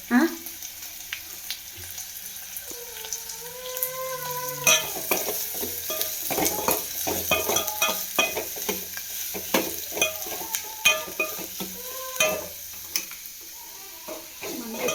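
Onions frying in hot oil in a home kitchen pan while being stirred, with a steady sizzle and repeated scraping strokes over 15 seconds, close and moderately loud, a few faint tonal squeaks early on.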